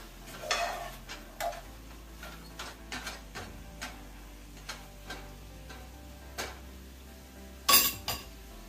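A spoon stirs onion powder into a pot on a low stove, giving a series of light scraping clicks and taps against the pot, quiet and spaced, with one sharper clink near the end.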